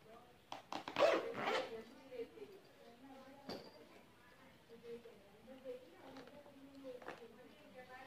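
A zipper on a small handmade cloth clutch being drawn shut, a short rasping pull followed by fabric handling while someone talks over it.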